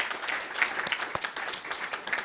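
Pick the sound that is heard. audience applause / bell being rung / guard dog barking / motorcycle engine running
audience applause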